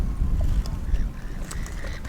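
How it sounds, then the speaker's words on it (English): Wind rumbles across the microphone on a river beach, a constant close low roar with faint lapping water behind it and no voices. "It's a bit windy today."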